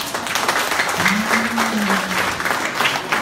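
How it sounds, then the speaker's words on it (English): Audience applause at a health product presentation for the C24/7 supplement, steady dense clapping throughout with a brief voice cutting through partway, loud and close. "let's give a big round of applause to our C24/7"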